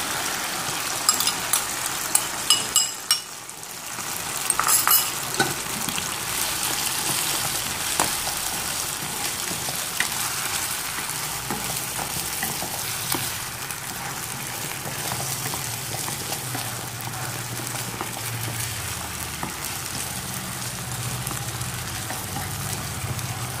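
Chicken pieces sizzling in a pan on a home stove as braising sauce is added, a continuous crackling, bubbling fry sound with a few louder clatters early on, steady and close throughout.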